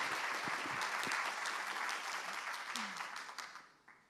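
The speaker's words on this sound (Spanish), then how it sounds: "Por favor, un aplauso para ellas." Audience applause for panelists at a marketing and branding event in an auditorium, full steady clapping that tapers near the end, with a faint voice beneath it.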